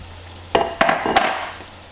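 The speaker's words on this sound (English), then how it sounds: "We're just going to give that a quick stir." Chili of peppers, tomatoes and bacon stirred in a pot: three distinct scraping clanks of a utensil against the pot over a low background hum, close and fairly loud, with no talking.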